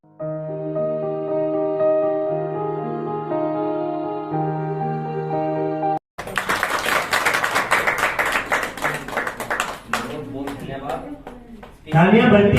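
Applause from an audience at a ceremony marking the completion of the eighth batch of a free sewing centre bursts in after a stretch of steady music, then breaks up and returns loudly at the end.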